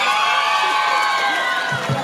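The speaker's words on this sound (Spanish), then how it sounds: "Los aplausos para las señoritas." A crowd cheering and whooping for young women performing on stage with Cholo Juanito, loud, dense and continuous, with excited shouts rising near the end.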